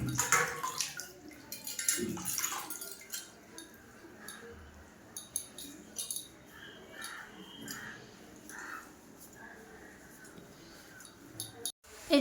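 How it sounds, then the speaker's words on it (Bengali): Water poured over a Gopal deity idol during its ritual bath at home, splashing in uneven bursts while crows caw nearby and a person talks. "তো চলো এখন গোপালকে স্নান করিয়ে দিই"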